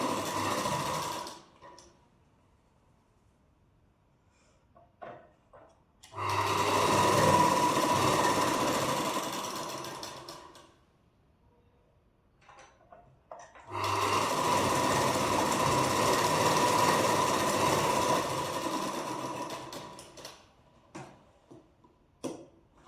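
A sewing machine stitches a half-inch seam joining lining to fabric on a princess-cut deep-neck blouse, two long steady runs of several seconds each separated by quiet pauses with faint handling clicks.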